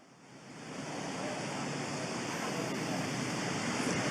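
Light rain falling in Rio de Janeiro during a live outdoor TV news report, a steady broad hiss that swells in the first second and then holds evenly throughout.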